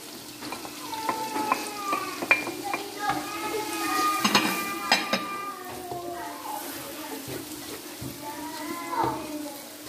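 Onion, chili, garlic and spices frying in a pan for an aloo baingan dish: a steady soft sizzle with scraping stirs and occasional utensil clinks, fairly close, under someone talking.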